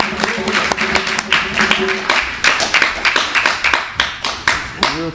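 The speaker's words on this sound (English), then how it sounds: "give some applause to Maharaj." An audience in a Hare Krishna temple claps in welcome, loud close applause with individual hand claps standing out, briefly under a speaking voice at the start.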